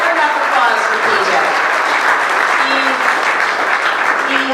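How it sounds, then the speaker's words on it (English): Applause from a dinner dance audience, a loud, even wash of many hands clapping close by for the whole stretch, with faint voices mixed in. "Never enough applause for PJ."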